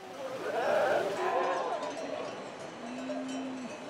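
Sheep bleat on a summer mountain pasture with cows and horses nearby, giving a couple of wavering calls close by early on, then quieter ambience and a thin steady tone near the end.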